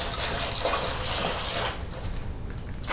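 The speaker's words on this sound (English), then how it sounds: "go ahead, pour a little bit in there" Liquid for cosmoline removal is poured into a small container beside a 1933 Tula Mosin Nagant rifle, making a steady close splashing, gurgling pour that eases off near the end.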